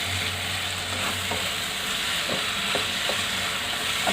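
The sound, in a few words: frying and stirring paneer keema mixture with salt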